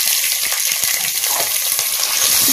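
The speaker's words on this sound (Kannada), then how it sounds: "ಸ್ವಲ್ಪ ಫ್ರೈ ಆಗಬೇಕು," Field beans (avare) go into a pan of fried onion over medium flame and fry with a loud, continuous sizzle, with faint spoon-stirring taps underneath and no speech.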